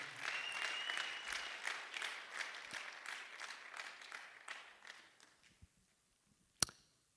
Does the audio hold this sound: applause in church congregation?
yes